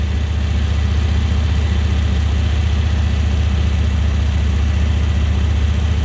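An old Chevy van engine idles with its AC compressor clutch engaged, giving a steady, loud low rumble that holds unchanged and alone throughout.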